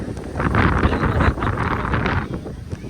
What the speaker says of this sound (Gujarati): મિત્રો પવન ઘણો આવે છે એટલે વરસાદ પણ ચાલુ થઈ ગયો